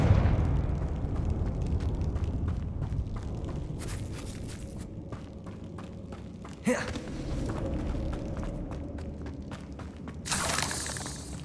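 Confringo fire-blast spell in Hogwarts Legacy combat: a low rumbling, eruptive roar with a sharp blast partway through and later bursts, fairly quiet amid game ambience.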